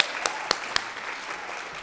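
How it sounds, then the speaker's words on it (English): An audience at a performing arts center claps for a storyteller, a few distinct sharp claps standing out over a soft wash of scattered applause. "Let's give her a round of applause."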